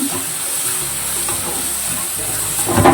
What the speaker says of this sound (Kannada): ಚೆನ್ನಾಗಿ ಫ್ರೈ ಆಗಿ ಈರುಳ್ಳಿ ಹಸಿ ವಾಸನೆ ಹೋಗ್ಬೋದು